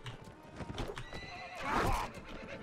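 Horses galloping and neighing in the video game Mount & Blade: Warband: rapid hoof clip-clops with a clear whinny rising toward the end, moderately loud and with no talking.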